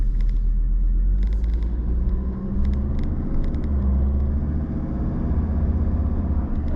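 A 2021 Ford Ranger 4x4 rolls over bumps, giving a loud, steady low rumble of tires and suspension with a continuous road drone and occasional thuds.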